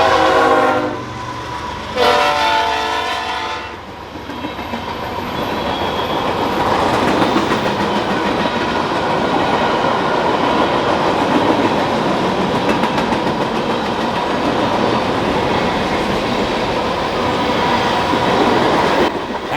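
A BNSF manifest freight train passes La Plata station in Missouri, opening with loud horn blasts and then a long, steady rumble and clatter of freight cars rolling by close to the platform.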